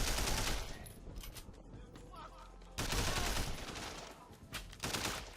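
Rapid bursts of automatic gunfire in Sleeping Dogs, loud crackling volleys separated by short gaps, with a voice talking underneath.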